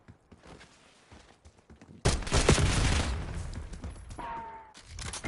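Archangel killstreak strike in Call of Duty Black Ops 6: quiet scattered thuds, then a sudden loud barrage of gunfire and blasts that rumbles on, fades, and surges again at the end.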